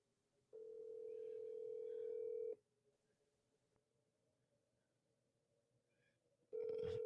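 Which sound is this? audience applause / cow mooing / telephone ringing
telephone ringing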